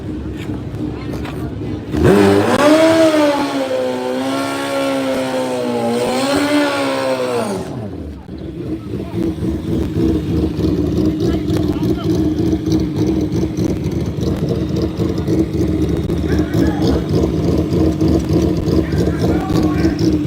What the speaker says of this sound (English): We got Davis on a motorbike.